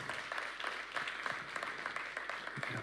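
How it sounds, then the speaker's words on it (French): A lecture audience at a scientific talk on atomic clocks claps in a soft, distant patter of many hands, steady throughout without a break. "Il n'est pas interdit de l'applaudir."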